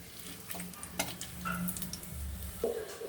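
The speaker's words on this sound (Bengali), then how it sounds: "তেলে একটু তেল দিয়ে দিচ্ছি ও তেজপাতা, এলাচ, দারচিনি, লবঙ্গ," Bay leaf, cardamom, cinnamon and cloves crackle and sizzle in hot oil in a pan, a steady close frying hiss with a few brief pops and scrapes, no talking.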